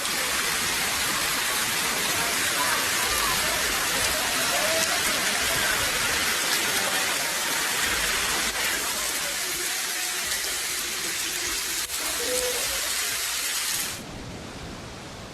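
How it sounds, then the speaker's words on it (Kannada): Dense, steady roar of heavy evening rain pouring down in Mysuru, loud and unbroken for most of the stretch before dropping away abruptly near the end. "ಮೈಸೂರಿನಲ್ಲಿ ನಿನ್ನೆ ಸಂಜೆ ಧಾರಾಕಾರ ಮಳೆ ಸುರಿದಿದೆ"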